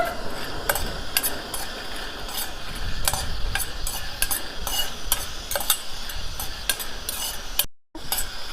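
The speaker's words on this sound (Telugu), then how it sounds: "సన్నటి మంట మీద ఇట్లా దోరగా వేయించుకోవాలి పల్లీలు." Peanuts being stirred and dry-roasted in a hot pan over a low flame, a steady close scraping and rattling of nuts against metal with soft sizzling, continuous with a brief dropout near the end.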